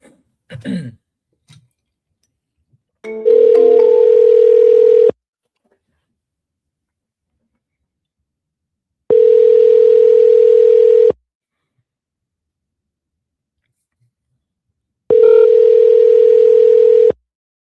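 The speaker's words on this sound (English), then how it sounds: "All right, dialing now." An outgoing telephone call rings out with three long, evenly spaced tones separated by silence, preceded by a few faint dialing clicks, with no talk.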